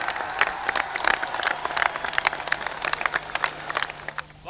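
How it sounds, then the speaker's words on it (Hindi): A small audience claps at the ceremony for the world's largest flag, made by VIP Flags, to honour its manufacturer, a loose scatter of handclaps, fairly close and moderately loud, thinning out and fading near the end. "प्लीज एक जोरदार तालियां हो जाए निसार साहब के लिए।"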